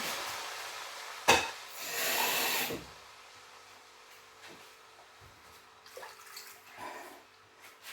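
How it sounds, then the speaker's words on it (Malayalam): Water poured into a cooking pot, a short splashing gush followed by quieter trickles and faint clinks of kitchen handling, fairly close and low in level. "വെള്ളം ഒഴിച്ചു"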